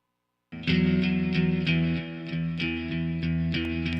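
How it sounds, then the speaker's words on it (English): Electric guitar drenched in reverb and chorus-like effects, a sustained chord swelling loudly before further strums ring out, each leaving a shimmering wash that lingers and slowly decays. "you can clearly hear the guitar first, And then when it stops, you hear the reverb tailing off"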